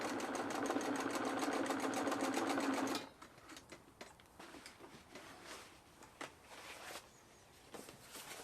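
A sewing machine stitches vinyl for a scooter seat cover in a steady, fast, loud run of needle strokes lasting about three seconds, then stops, leaving quiet handling noises and faint clicks.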